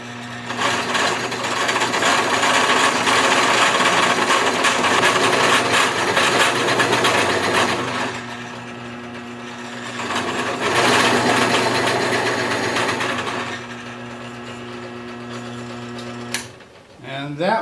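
A Forstner bit, 3.5 inches across, bores a larger hole into a piece of walnut on a wood lathe. A loud, steady mechanical whine runs for several seconds, dips briefly, then returns and eases off. A voice talks over it.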